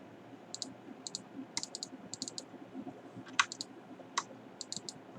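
A computer mouse clicks during a school computer lesson on editing chart bars. Sharp, crisp clicks come scattered and often in quick pairs, close by against a soft background hum, with no speech.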